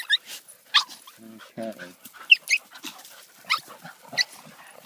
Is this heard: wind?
no